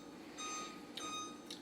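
A kitchen timer is set for 30 minutes, giving a few short, faint electronic beeps spaced about half a second apart, with no one speaking.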